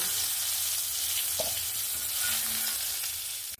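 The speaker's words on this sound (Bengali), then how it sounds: "এঁচোড়টাকেও সুন্দর করে ভেজে নিয়েছি। এবার এঁচোড়টাকেও তুলে নেব।" Pieces of young jackfruit frying in oil, a strong unbroken sizzle with a single soft clink of a utensil as they are lifted out, cutting off at the end.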